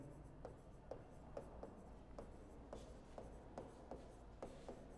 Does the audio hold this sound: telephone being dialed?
no